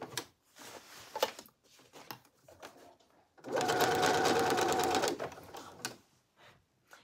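Domestic sewing machine stitching a side seam of a garment, a close, steady whirring run of about a second and a half between quieter handling clicks and rustles.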